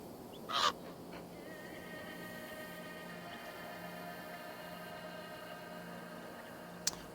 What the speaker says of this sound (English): Oh god, my bird scared me.